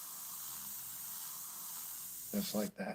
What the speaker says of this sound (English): taking that transparent color and just spraying it instead of like this, get darker and darker on itself